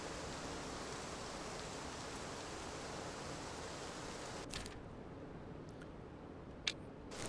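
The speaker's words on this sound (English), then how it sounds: "the noise the rain's making" Steady, dense rain hiss pours down in the hunting game Way of the Hunter, an even broadband wash with a few faint clicks and soft knocks near the end.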